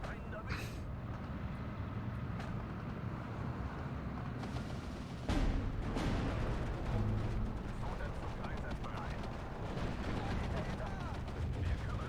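Units fire in a Steel Division 2 campaign battle at Baranavichy, with repeated booms and bursts of gunfire over a constant rumbling din, a sharp, louder blast about halfway through, and someone talking over the noise.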